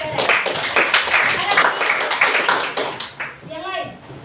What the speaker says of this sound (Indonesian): Beri tepuk tangan dulu untuk Keren.